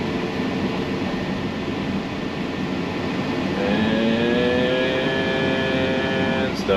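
A heavily loaded pickup truck, stuck in soft mud while a two-acre pond is being dug, idles with a low rumble, then its engine revs up in a rising whine and holds high.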